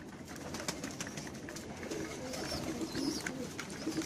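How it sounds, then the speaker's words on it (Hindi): High flying breed of pigeon cooing softly in a soft, low, murmuring run against a faint outdoor background, with no talk. "ये मेरे घर के ब्रीड का कबूतर है, अच्छा कबूतर है मेरा"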